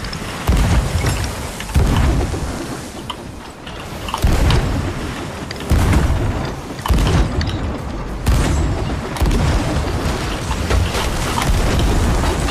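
Repeated booming cannon fire of chain shot in a naval video game battle, a steady series of loud heavy blasts with crashing water-like rumble throughout.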